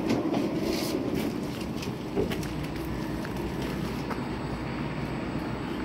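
A subway train passes a station in Stockholm, Sweden, a steady broadband rumble with faint rail clatter holding at a fairly even level throughout, over outdoor ambience with no talking.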